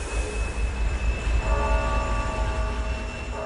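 A train in Siberia, part of Russia's extreme ice trains, rumbles steadily with a deep low drone and faint metallic tones riding above, heard close and alone without voices.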